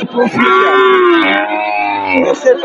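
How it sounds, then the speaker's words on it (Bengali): A cow with her calf at a cattle market gives a loud, close, drawn-out moo lasting about two seconds, with faint market voices behind it. "বাচ্চা সহ গাভী।"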